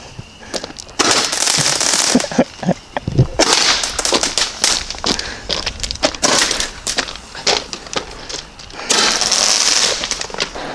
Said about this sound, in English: Quick little firework break